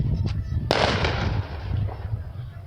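A firework goes off with one sharp, loud bang followed by a crackling, hissing tail that fades out, with faint pops before it and a low rumble of background noise throughout.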